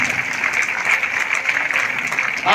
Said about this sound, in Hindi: जोरदार तालियां आपके लिए भी।